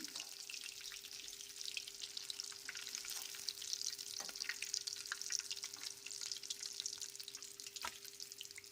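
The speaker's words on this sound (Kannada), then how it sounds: "2 ಕಡೆ ಟರ್ನ್ ಮಾಡಿಕೊಂಡು ಕರಿಬೇಕು" Rava-coated bangude mackerel fish shallow-frying in oil in a pan, a faint, continuous crackling sizzle with a few soft clicks and a steady low hum underneath, no voices.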